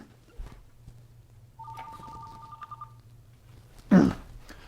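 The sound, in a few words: telephone ringing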